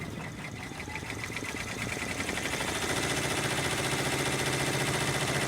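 An embroidery machine stitches an outline block on a tiled scene, giving off a steady, rapid, close mechanical whir and needle chatter that builds slightly and runs on continuously with no talking.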